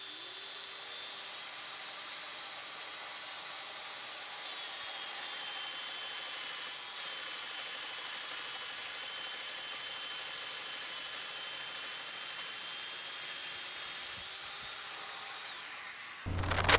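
A domino joiner cutting mortises in wood for nightstand web frames, whining in a steady, fairly quiet high-pitched drone that runs for most of the stretch and then cuts off near the end.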